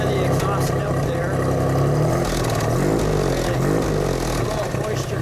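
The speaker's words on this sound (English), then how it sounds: "You can listen to the exhaust note there." Idling 1954 Chevrolet Corvette in Sportsman Red, its exhaust note a steady low rumble heard up close at the tailpipe, running continuously throughout with a faint voice over it.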